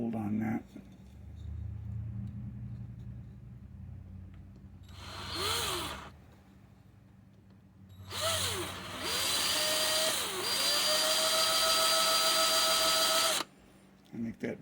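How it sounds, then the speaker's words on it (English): A power drill with a worn-out bit, drilling on a model diorama, whines in two bursts, one short and one longer, its motor pitch rising and dipping, with low talking nearby at the start. "I think that drill bit is dead."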